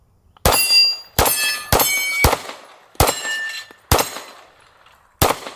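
Seven loud, sharp pistol shots from a Staccato XC 2011 ring off steel targets in an irregular sequence, each crack followed by a bright metallic clang that decays slowly.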